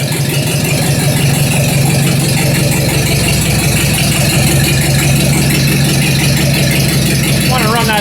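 A Ford 2N tractor engine runs steadily at idle with a low, even rumble and light rattling, close by and continuous, with talk faintly in the background.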